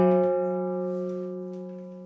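Second guitar string with a tiny split ring attached, a single plucked tone ringing with bright, sustained overtones and a slight metallic rattle, slowly decaying.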